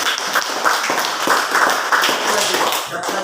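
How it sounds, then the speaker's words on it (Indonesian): Applause from a small audience at a class session, a burst of close rhythmic hand clapping mixed with overlapping voices and chatter throughout. "Tepuk tangan untuk"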